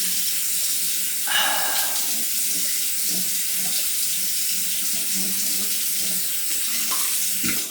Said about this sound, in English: Let me rinse that off and get ready for a second pass.